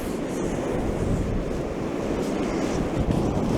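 Strong wind buffeting the microphone at the coast while fishing, a loud continuous roar with surf mixed in and no talking.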